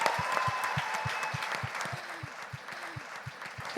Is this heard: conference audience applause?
yes